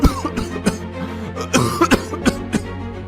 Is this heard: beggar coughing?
yes